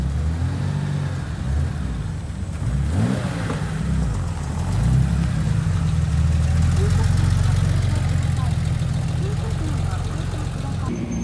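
A Porsche 911 slant nose rolls into an annual RWB Porsche car meet, its engine rumbling loud and near with brief revving swells over a steady low idle, amid outdoor crowd ambience.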